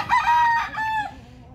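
A Sweater Kelso F1 broodcock rooster gives a single loud, close crow that rises and then trails off within about a second and a half.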